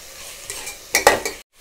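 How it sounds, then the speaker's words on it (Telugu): Vegetable fried rice stirred in a pan: a low sizzle, then a few sharp close scrapes and clanks of a spoon against the pan before it goes quiet, with no one talking. "అన్నీ కలిసేటట్టు బాగా కలపాలి."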